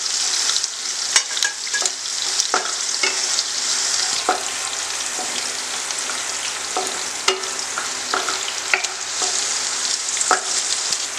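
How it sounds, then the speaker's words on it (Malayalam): Green chillies fry in hot oil for a Konkani aval mixture snack, giving a loud, continuous close sizzle broken by sharp clicks and scrapes of stirring, with no talking. "പച്ചമുളക് നല്ലോണം വറുത്തെടുക്കണം കേട്ടോ. നല്ലപോലെ എണ്ണയിൽ കിടന്ന് നല്ലോണം അതിൻ്റെ എരിവൊക്കെ പോയി നല്ല ക്രിസ്പി ആയിട്ട് നമുക്ക് കിട്ടും."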